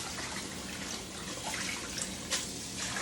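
Tap water runs steadily into a kitchen sink where collard greens are being washed, a faint, even hiss with a brief splashy swell near the end.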